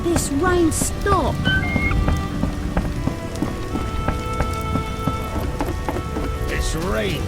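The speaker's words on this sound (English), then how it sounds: "Oh, when will this rain stop?" Steady rain pattering on surfaces in The Witcher video game, with a distant thunder rumble, while characters speak over it.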